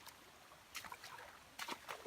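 Creek water flows and trickles after heavy rain, close by and fairly faint, with a few louder splashy surges.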